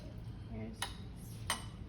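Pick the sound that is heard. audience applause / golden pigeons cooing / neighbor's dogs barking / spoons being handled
spoons being handled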